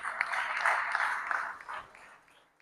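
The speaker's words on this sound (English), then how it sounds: "rousing applause that was given to her" An audience applauds a lifetime achievement award honoree at a World Teachers' Day commemoration at the University of the Gambia, a steady, moderately loud clapping that fades out toward the end.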